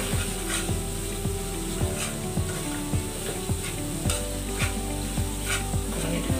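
Onions sauté in a pan for aloo dum under a loud, continuous sizzle, with a spatula scraping and knocking against the pan in a regular rhythm and no voices.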